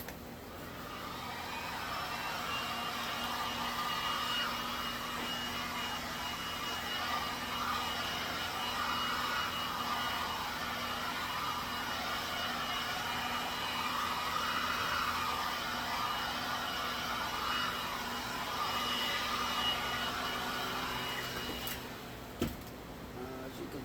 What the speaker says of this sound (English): I'm gonna hit it with the heat gun